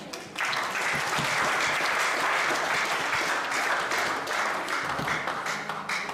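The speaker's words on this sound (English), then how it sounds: "Give the Lord a hand clap." Congregation claps hands together at an evening church service, a loud, dense, sustained burst of applause that begins abruptly and holds steady for several seconds.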